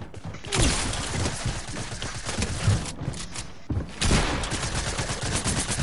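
Bursts of rapid gunfire in the video game Fortnite, dense crackling volleys in two main stretches with a brief lull between, loud and busy, with no clear talk over it.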